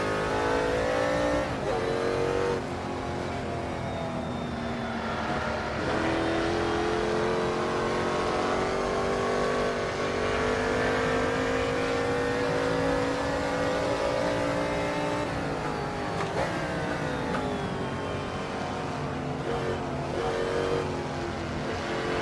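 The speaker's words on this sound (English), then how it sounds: "Enjoy the noise of that Daytona." A Daytona race car in a 1960s racing sim roars continuously at full throttle, its engine pitch climbing and dipping through gear changes, loud and close with no talking over it.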